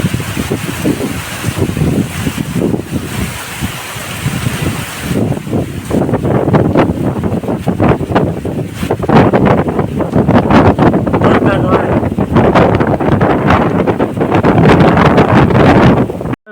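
Strong wind gusting with heavy rain over open farm fields, a loud continuous rush and roar with buffeting against the microphone, and voices faintly underneath.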